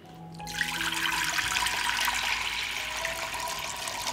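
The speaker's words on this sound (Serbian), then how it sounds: "U šerpu ću sipati litar vode." After a brief quiet moment, a litre of water gushes steadily into a pot, a continuous splashing pour up close.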